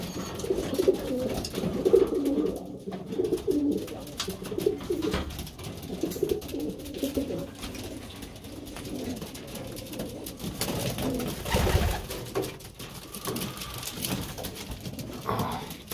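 Pigeons cooing inside a pigeon loft near a box for widowed cocks, repeated low soft coos with rustling and occasional flutters nearby.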